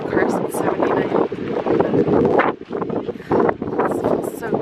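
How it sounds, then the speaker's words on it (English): Steady wind buffets the microphone on a dune-side beach in Guam, a loud continuous rush with gusts, while people talk over it. "It's windy"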